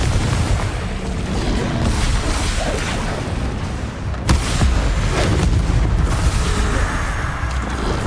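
Confringo spell explosions in the video game Hogwarts Legacy, a loud booming blast with a sharp crack near the middle, set over a dense, continuous rumble of game effects and ambience.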